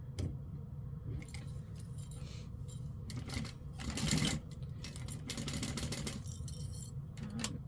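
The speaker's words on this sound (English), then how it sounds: "so we are going to sew very close to the piping cord on all the sides" A sewing machine stitches close to piping cord on a cut-and-sew project, a steady mechanical whir with clicking bursts that swell and ease over several seconds, up close and with no talk.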